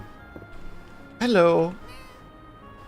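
A cat meows once in the farming game Fields of Mistria: a short, clear, rising-then-falling meow, close and fairly loud, with faint background sound before and after.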